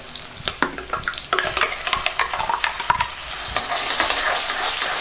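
A spoon stirs and scrapes through thick, freshly ground masala paste in a frying pan for a vegetarian curry, irregular strokes over a soft, steady sizzle.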